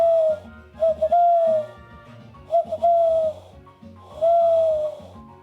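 A human voice imitating an owl or wood pigeon, three drawn-out hooting calls repeated at a steady pace, loud and close with low background music underneath.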